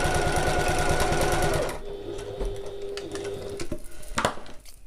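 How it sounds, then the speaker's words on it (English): A sewing machine stitches a quarter-inch seam on a pocket in a fast, even mechanical rattle, close and loud for under two seconds before stopping, followed by quieter handling clicks and rustles of fabric. "So I'm sewing at 1/4 of an inch"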